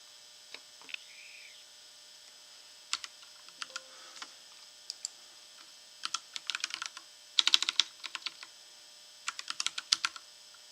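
Keys clatter on a computer keyboard in short, irregular bursts of crisp clicks, close and fairly faint over a low hum, with one denser flurry of typing midway.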